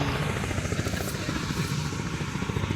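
An orange and black helicopter in Glenorchy near Queenstown, New Zealand, gives a steady, close, loud rotor and engine drone with a rapid throbbing beat.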